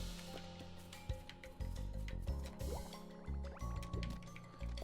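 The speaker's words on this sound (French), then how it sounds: "Oh mon dieu, de l'eau." Water in the video game Tinykin, with liquid filling, squishing and dripping sounds layered over continuous game music, with no talking.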